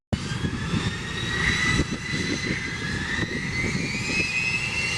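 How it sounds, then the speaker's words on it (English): Aircraft engines drone steadily at the Oshkosh AirVenture 2025 air show, a loud continuous roar with a whining tone rising in pitch, near and sustained throughout. "We are positioning aircraft to be in the air and ready for an airborne start."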